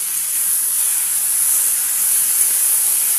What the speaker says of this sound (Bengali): এটা একটু ভেজে নিই, খুব বেশি ভাজার দরকার নেই।